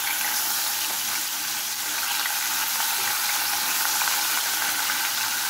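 Rohu fish pieces fry in a pan and are turned partway through, giving a steady, close, broadband sizzle that holds evenly throughout with no voices.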